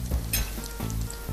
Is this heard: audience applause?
no